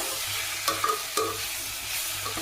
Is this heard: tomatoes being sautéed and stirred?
yes